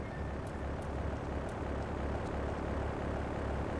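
Plane engine drone in Grand Theft Auto III, a steady, continuous propeller hum holding at a constant level with faint pulsing throughout.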